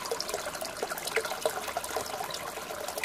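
Water from a mountain spring in a Dagestan village flows in a steady, close, fizzing rush with bright trickling splashes throughout, no voices.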